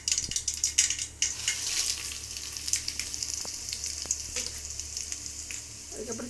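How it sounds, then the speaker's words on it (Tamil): Mustard seeds and broken dried red chilies fry in hot oil for a South Indian pulicha keerai kuzhambu, giving a steady close sizzle dotted with sharp crackles and pops, with no talk. "கடுகு பொறிட்டோம். அப்புறம் வரமிளகாய் கிள்ளி வச்சுருக்கேன்"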